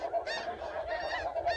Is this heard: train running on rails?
no